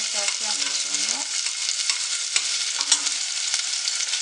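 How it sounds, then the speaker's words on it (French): Onions frying in olive oil in a pan on the stove, a steady close sizzle with brief stirring scrapes and a few clinks, no one talking. "J'ai mis sur le feu et je vais ajouter mes oignons, comme ça. Commencer à faire mes oignons"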